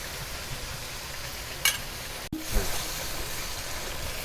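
Chicken kosha, spiced meat with a splash of water, sizzles steadily in a pan, broken by a sharp clatter of a lid or spoon and a brief stirring scrape partway through.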